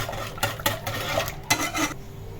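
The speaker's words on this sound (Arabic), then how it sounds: "غادي نبقى نحرك فيهم فوق البوطه" A spoon scrapes and clinks against a pot on the stove while a mixture of lemon, sugar and starch is stirred, in several distinct close strokes over a low steady hum, with no voices.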